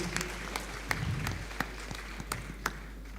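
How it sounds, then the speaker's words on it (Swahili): Scattered applause from a church congregation at a Kikuyu-language service, a handful of separate claps ringing out over a low steady hum with a faint murmur underneath. "Wapi makofi?"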